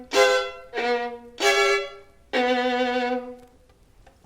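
Violin chords with G naturals from the Mendelssohn Violin Concerto sound close and solo, with three short bowed strokes followed by a longer sustained chord, bright and rich in overtones, with no talking.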